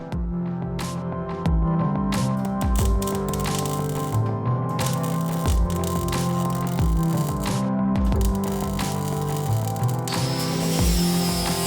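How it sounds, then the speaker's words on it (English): Seam welding along the joint between the boot floor and chassis leg of an MG Midget 1500, a steady loud crackle with sharp bursts and rattles running continuously close by. "I've decided to seam weld this joint between the boot floor and the chassis leg"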